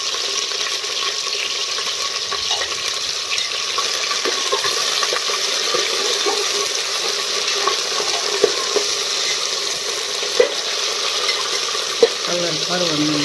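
Cluster beans and chopped chilli fry in hot oil in a steady, loud sizzle that runs throughout, with a few light clinks of stirring near the end.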